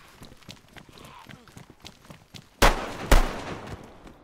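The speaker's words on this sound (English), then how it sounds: "it probably wasn't a good idea to fire the gun" Two loud, sharp gunshots ring out in a video game, close and separated by about half a second, following a stretch of quieter background sound and soft movement.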